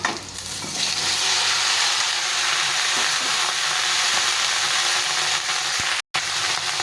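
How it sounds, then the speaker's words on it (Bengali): Mixed vegetables tossed into a hot pan with potatoes crackle and sizzle steadily up close, with a few scraping stirs and a short silent gap near the end. "এখন আমি সব সবজিগুলো একবারে দিয়ে দেবো"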